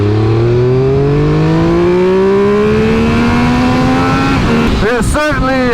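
A Triumph Speed Triple 1200 RR motorcycle engine pulls hard while ridden, loud and close, its tone climbing steadily through the revs before a sharp burst of gear-change or throttle blips near the end.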